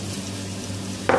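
Grated ginger drops into a pan of frying onion, garlic and green chili, giving a steady close sizzle with a sharp burst of crackling at the end.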